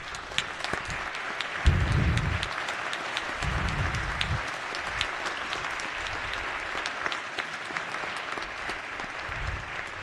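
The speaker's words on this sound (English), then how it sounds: "Please give them a round of applause." Sustained audience applause fills a legislative chamber during a House floor session, steady dense clapping from the floor and balcony with a few low thumps, continuing for the full stretch.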